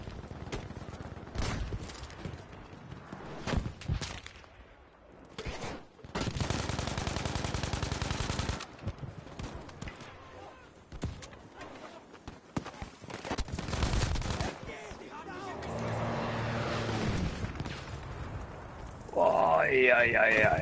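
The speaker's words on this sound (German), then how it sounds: "ein ganzes Magazin reingedrückt" Rapid automatic gunfire in a video game as a full magazine is emptied, bursts of shots mixed with game noise while players talk over it.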